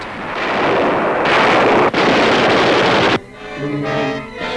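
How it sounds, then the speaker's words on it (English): Camouflaged artillery guns fire from nearby fields in wartime Italy, a long roaring blast that rumbles on for about three seconds, broken by a sharp crack, then gives way to a quieter, ringing tonal tail. "Guns, camouflaged in nearby fields, score a hit."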